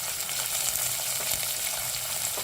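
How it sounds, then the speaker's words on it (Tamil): Chopped small and large onions with curry leaves frying in hot oil for a Chettinad chicken kuzhambu: a steady, dense, close sizzle with crackling hiss throughout and no talking. "வெங்காயம், சின்ன வெங்காயம், கொஞ்சம் பெரிய வெங்காயம், அப்புறம் வந்து கொஞ்சம் கருவேப்பிலை போட்டுடுறேன்."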